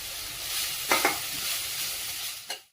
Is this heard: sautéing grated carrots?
yes